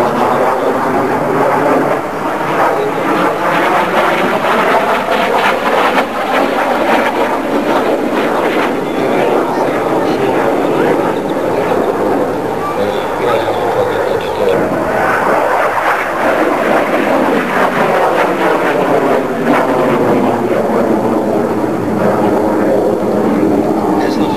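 A military jet flies manoeuvres at the 2000 Kecskemét airshow in Hungary, its engine roar rising and falling in long sweeps, loud and continuous, with a commentator talking over it.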